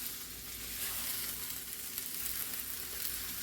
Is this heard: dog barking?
no